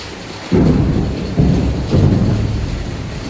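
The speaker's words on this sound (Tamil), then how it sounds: "செம்மையாக வானம் இடி இருக்குது" Heavy rain pours steadily while rolls of thunder break out three times in quick succession, loud and booming close overhead, with no talk.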